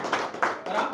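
Scattered clapping at a meeting of a village primary agricultural credit cooperative society, three brief bursts of hands in quick succession, moderately close and not very loud.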